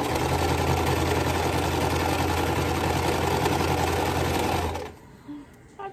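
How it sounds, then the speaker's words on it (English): A sewing machine stitching a quilt block runs fast and steady with a loud, even mechanical hum and rapid needle clatter, then stops abruptly near the end, leaving a quiet room. "I start sewing really fast."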